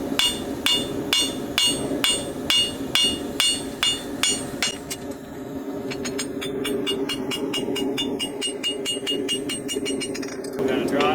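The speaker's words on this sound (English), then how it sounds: "Now we'll use the heel of the hammer to draw out our source." A farrier's hammer draws out the toe clip of a horseshoe on an anvil, with about a dozen evenly spaced ringing blows followed by a run of quicker, lighter metallic taps, close and loud.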